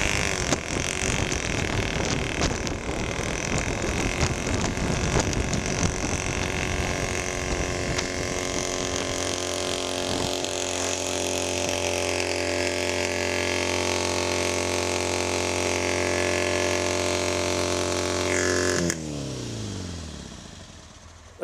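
A classic Matchless motorcycle engine roars loudly at full revs for a long stretch, its rough, sustained note holding steady before cutting down abruptly near the end.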